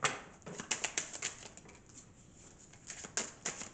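Tarot cards are shuffled in quick, soft riffles and flicks close by, quiet and uneven with a brief lull midway, no voices.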